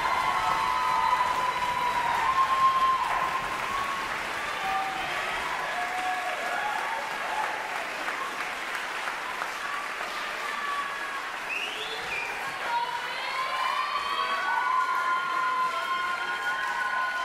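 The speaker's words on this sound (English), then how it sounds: "Let's give them a big round of applause." An audience at a university choir concert (Choruses of UC Davis) applauds and cheers for graduating choral singers. The clapping is dense and sustained, with whoops rising through it for the full stretch and no pause.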